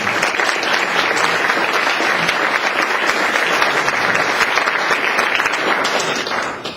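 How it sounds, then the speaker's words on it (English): Sustained applause from an audience at a Toastmasters award presentation, dense and steady clapping that fills the room at full strength before tapering slightly at the very end. "Let's give him another round of applause."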